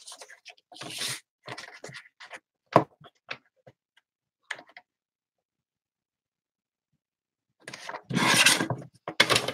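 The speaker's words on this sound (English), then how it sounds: "We'll cut a couple strips at 1 inch." Cutting one-inch strips for a craft project: scattered close scraping and rubbing strokes, then a silent gap and a louder burst of cutting near the end, with no talk.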